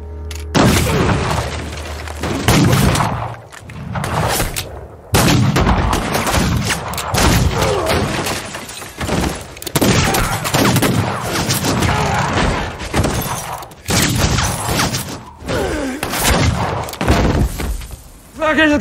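Gunfire in a film shootout, a burst of sharp shots and heavy booms spread across the scene, mixed with voices and dramatic sound, loud and close.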